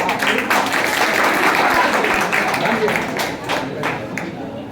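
Audience applause at a 2023 toppers' prize distribution: a loud, close burst of many hands clapping that thins and tapers off toward the end, with a voice heard faintly beneath it.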